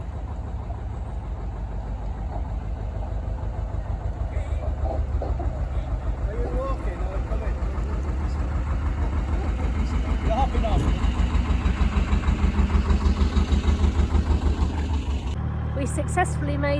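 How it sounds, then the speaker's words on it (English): The diesel engine of a narrowboat runs steadily at idle, a close, loud, even low chugging throbbing throughout, with faint background sounds. "Beautiful sound of Python's engine."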